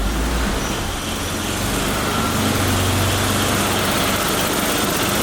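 A BMW E34 engine cold starts and runs with a rough idle, a continuous close, loud rumbling drone with uneven pulsing through the whole stretch and no talk.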